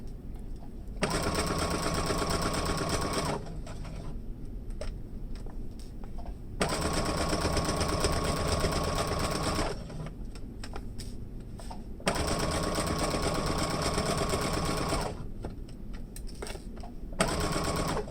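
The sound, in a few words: sewing machine sewing fabric face mask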